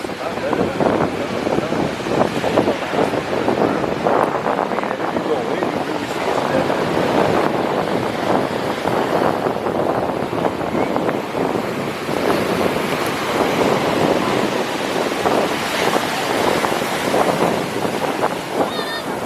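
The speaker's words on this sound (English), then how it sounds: "If you're wondering what beach that was, that's actually Macao Beach." Surf washing onto Macao Beach in the Dominican Republic, a steady close roar of breaking waves mixed with buffeting wind noise across the microphone, continuous throughout with no clear voices.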